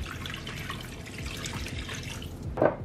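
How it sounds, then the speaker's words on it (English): Beef broth pours into a pan of clumped flour mixture for Swedish meatball gravy, a steady liquid splashing and trickling throughout with a brief louder splash near the end, no talking. "Next, we're gonna add in our beef broth."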